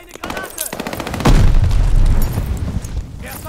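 Loud, dense gunfire and booming blasts from Call of Duty: Vanguard on the Champion Hill map, close and continuous, with one heavy explosion-like boom swelling midway and lingering.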